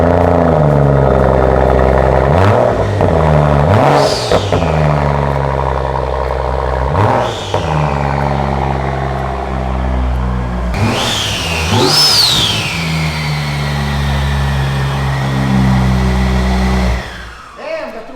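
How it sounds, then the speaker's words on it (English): A rebuilt 2016 BMW M235i engine running loud and close, idling steadily between repeated sharp revs that climb and fall, the biggest around the middle, before cutting off abruptly at the end. "Okay, I'm happy that the motor runs good. As you seen in the video, it starts up, sounds good."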